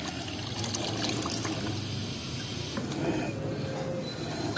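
Mustard cake and DAP fertilizer being stirred into water for an organic fertilizer mix, a continuous close sloshing, pouring wash with no voices.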